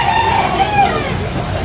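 A rooster crows at a chicken sale in Carbon, Cebu, a short strained call amid a busy market din with voices murmuring in the background.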